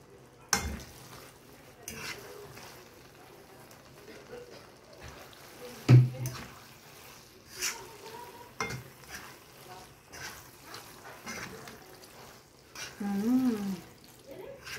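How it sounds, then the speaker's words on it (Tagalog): Black pasta tossed with a vegan sauce in a pan, stirred and mixed with scattered scraping and clinking of utensil against cookware over a faint sizzle; a voice speaks briefly near the end. "Ma-incorporate na po yung sauce niya sa pasta. Ito na po, na-mix na po siya ng maayos."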